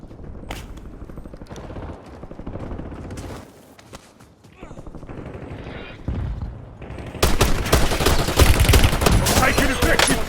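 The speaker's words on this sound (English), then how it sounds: "Taking effective fire." Gunfire in the Call of Duty Warzone video game, with a PM pistol in use: loud, rapid shots and bursts over game sound and voices, briefly quieting midway before heavier, denser fire takes over toward the end.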